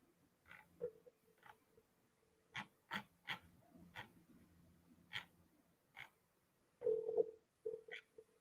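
A phone number is dialed on a telephone, a series of short separate tone bursts in irregular groups, fairly quiet, with brief pauses between keypresses and no talking.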